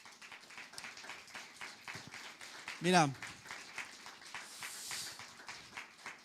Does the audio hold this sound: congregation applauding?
yes